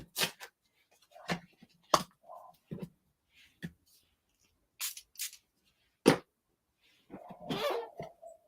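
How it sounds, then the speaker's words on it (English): Dog barking upstairs in a house, scattered sharp muffled barks with gaps between, faint and distant, with small nearby tapping and handling noises. "I don't know if you guys can hear my dog barking."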